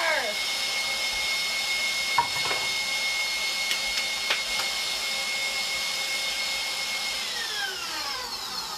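An electric mixer whirs steadily, beating butter tart filling in a kitchen, a continuous high motor whine with a few brief clinks, its pitch sliding down near the end as it slows.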